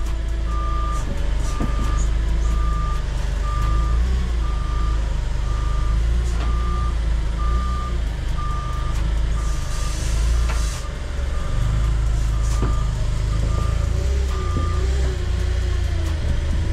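A truck's reversing alarm beeps in an even, repeated pattern over a deep idling engine rumble as the vehicle backs in, with faint clatter around it and no voices.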